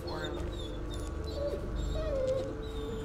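Dog Bullet whimpers and whines in Blair Witch, thin rising and falling cries repeating over a quiet low rumble, fairly faint, with people talking over them.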